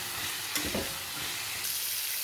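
Steady hissing sizzle of vegetable stalks and potatoes frying with turmeric in a hot pan, with a brief stir or scrape partway through.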